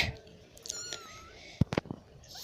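A tiny newborn kitten meows a few times close by, thin and brief high cries over quiet background noise.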